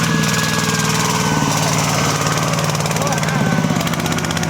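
A small Kubota ZT180 tractor engine drones steadily and loudly throughout, its pitch rising and dipping slightly as it revs, with voices talking over it.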